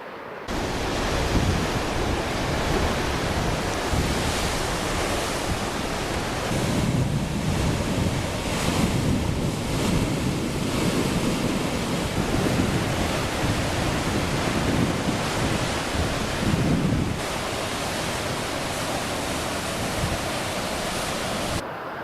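Surf breaking and wind gusting at Kynance Cove in Cornwall at high tide, a steady loud roar of waves with buffeting wind noise on the microphone throughout, no voices.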